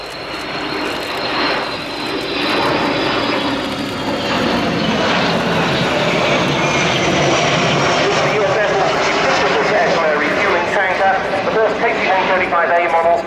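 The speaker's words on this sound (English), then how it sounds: "This the CFM56 engine KC-135R, which we saw with air-to-air refueling boom down." A KC-135R tanker with CFM56 engines passes at an air show, its broad jet roar building and holding loud and steady, while a commentator talks over it.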